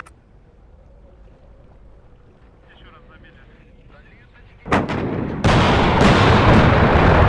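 Artillery in the WARNO Highway 66 campaign fires after a low, steady hum: a heavy blast lands, then a second, louder shot that swells into a sustained, booming roar.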